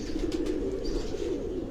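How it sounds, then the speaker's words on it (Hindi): Pigeons coo in a low, soft rumble on a rooftop loft, a steady murmur of several birds heard close for a short moment. "तो यहाँ लातादाद कबूतर हैं"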